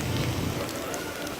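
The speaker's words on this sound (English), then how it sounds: "it's raining so much" Heavy rain falls in Orlando as a dense, steady hiss of drops striking surfaces nearby, even and unbroken for a second and a half.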